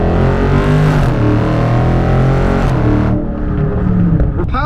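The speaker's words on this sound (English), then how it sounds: "Let's do another pull real quick." Dodge Challenger Scat Pack accelerating hard: loud, close V8 roar rising in pitch through the gears, with a brief dip at a shift before climbing again.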